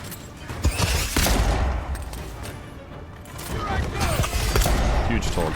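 Gunfire in the video game Avowed: a fast series of loud, sharp bursts that comes in two busy stretches with a short lull between them, and voices can be heard faintly under the shots.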